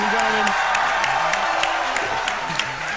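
Crowd cheering and applause in a Minecraft game event, a broad continuous roar with scattered claps and whoops, heard beneath talk.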